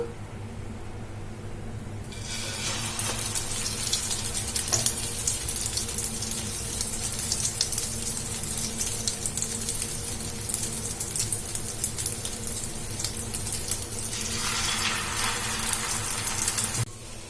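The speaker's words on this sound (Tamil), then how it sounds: "இந்த முட்டையில வந்து நம்ம ரெடி பண்ணி வச்சிருந்த பிரெட்டை வந்து டிப் பண்ணிட்டு இந்த ஆயிலில் வந்து நம்ம போட்டுக்கலாம்" Bread slices dipped in egg sizzle in hot oil in a pan, a steady, fairly quiet crackling hiss that swells after a couple of seconds and continues unbroken, with no voices.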